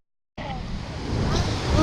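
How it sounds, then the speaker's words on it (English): A steady, rushing roar of Swallow Falls waterfall starts abruptly after a brief silence and swells slightly louder, constant and broadband, with no clear talk. "Look at that waterfall over there."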